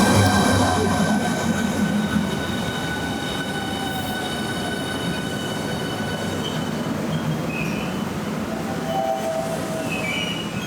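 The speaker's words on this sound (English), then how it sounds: "And a Class 395 as well comes in to surprise me in the background." A Class 395 high-speed train runs through Gillingham station on the Chatham Main Line, a continuous loud rolling roar of wheels on rails with thin metallic squeals and whines riding over it.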